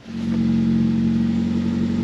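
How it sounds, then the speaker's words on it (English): A 1985 Toyota Corolla FXGT engine runs just after being started, following a power steering flush, giving a steady, loud mid-pitched drone that holds even throughout with no voices. "You'll see how much nicer the car starts up now."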